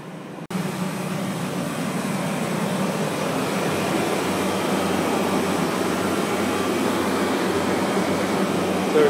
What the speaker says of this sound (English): the compressor's just the other side of this tin